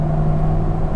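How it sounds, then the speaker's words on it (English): GM 5.3 liter V8 truck engine with stock exhaust, a loud, steady low droning rumble as it revs under throttle while driving. "The engine sounds amazing."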